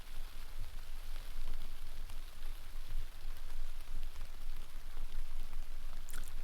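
Steady rain patters on a tent fly sheet during a wet night of camping in Scotland, a continuous close drumming of drops with no voices.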